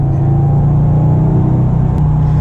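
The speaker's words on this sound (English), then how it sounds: "Now there's a lot more road noise in here." Steady low rumble and hiss of road noise heard inside a moving 2009 Porsche 997 Turbo Convertible with all-wheel drive, constant and droning with no talking.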